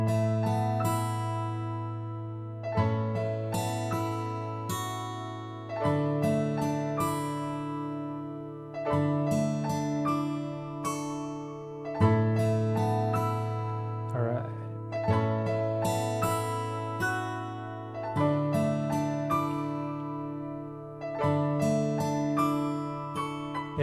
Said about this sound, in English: With only the guitar and the piano,